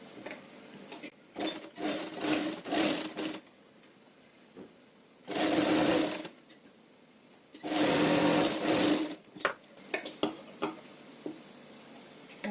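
A sewing machine stitches a folded fabric strip for a cord, whirring in several short choppy bursts and then two longer steady runs, with quiet pauses and small clicks between.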